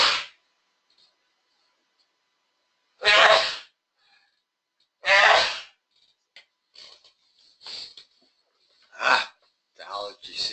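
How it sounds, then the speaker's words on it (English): A person with seasonal allergies sneezes five times during an online trigonometry tutoring session, sharp loud bursts spaced a few seconds apart with quiet gaps, followed by softer mouth noises and brief vocal sounds. "5 sneezes just means it's bigger allergy season."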